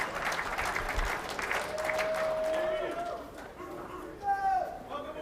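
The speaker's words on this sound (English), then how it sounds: "The crowd is ready. We're ready. They got prime seats, too. Applause." A large crowd at the 2003 NFL Draft applauds and cheers in a steady, broad wash, with a few whistles rising over the noise.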